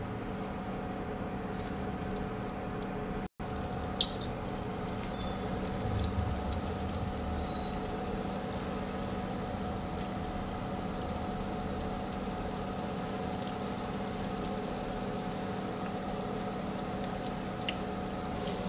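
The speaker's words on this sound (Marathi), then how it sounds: "बघू शकताय आपले फिंगर बटाटो कसा तळत आहे" Potato fingers frying in hot oil, a steady soft sizzle and crackle of bubbling oil that runs on evenly, close by and fairly faint, with a few small pops and one brief knock near the start.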